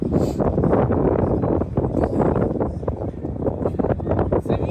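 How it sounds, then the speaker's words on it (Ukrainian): Outdoor wind buffets the microphone in a continuous gusty rumble with rapid fluttering surges, loud and close throughout. "Це вітер."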